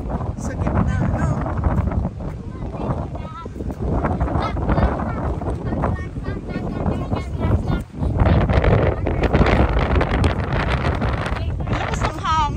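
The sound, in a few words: strong wind at the lake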